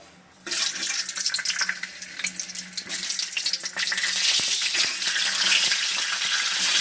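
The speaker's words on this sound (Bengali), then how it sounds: "এই পটলটা একটু হালকা করে ভেজে নেবো" Steady hissing sizzle of pointed gourd frying in hot oil, starting abruptly and continuing loud and close, with occasional stirring scrapes.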